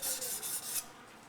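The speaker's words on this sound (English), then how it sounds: "as you move it up and down the stone, like that, and then slowly work back into the bevel." A Becker BK9 knife blade rasps over a sharpening stone in a few quick close strokes, a gritty scraping that fades after less than a second.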